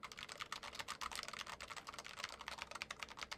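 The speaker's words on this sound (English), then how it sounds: "Let's do a little bit of typing here." Fast, steady typing on a Cooler Master SK622 ultra-compact mechanical keyboard with a brushed aluminum body, a dense run of crisp clicky keystrokes up close, heard alone with no voices.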